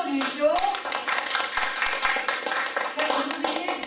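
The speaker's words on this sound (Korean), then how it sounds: "박수 한번 주십시오" A room full of people at a leadership training class claps steadily, a dense patter of applause at moderate volume, with a brief voice at the start.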